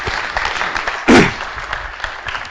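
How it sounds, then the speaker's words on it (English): Audience applause at the BruCON 2009 security conference for a speaker, a loud, continuous spatter of clapping with one sharp, bright surge of a few nearby claps partway through. "let's give a big applause for the first speaker"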